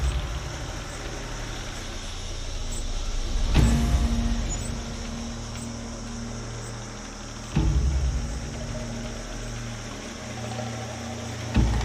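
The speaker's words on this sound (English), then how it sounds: "Suddenly they heard a loud roar from an engine" A loud engine rumbles steadily, swelling and surging a couple of times with sharp thuds, close and continuous throughout.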